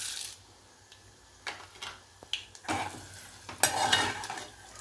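Chana dal frying in oil, a light sizzle broken by irregular spoon scrapes and clinks of stirring against the pan, growing busier and louder toward the end, close with no talk.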